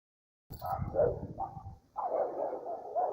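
A Boxer dog loose during handling barks and yelps in a couple of close, loud bursts, with no talk.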